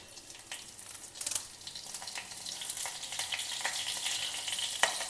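Mustard seeds and a green chili fry in hot oil in a pan for a South Indian festival dish, giving a steady bright hiss dotted with sharp, scattered seed pops, close and moderately quiet.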